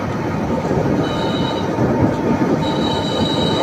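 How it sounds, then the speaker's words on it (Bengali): A train runs on rails between two sides of gajari forest, heard from up on the carriage roof: a loud, steady rolling rumble with thin, high wheel squeals that come and go, and no voices. "আজকে অন্যতম একটা ভ্রমণ রেলগাড়ির ছাদের উপরে।"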